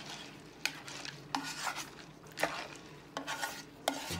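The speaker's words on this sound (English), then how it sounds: "I'm just going to stir this up for 1 minute." Ingredients sizzle gently in a pan while a utensil stirs them, a soft frying hiss punctuated by sharp scrapes and clinks against the pan every second or so, close by and with no speech.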